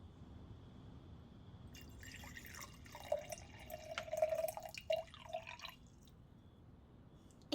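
Hot tea pours into a cup in a soft, close trickle of liquid lasting a few seconds over a quiet hiss, with small drips at the end.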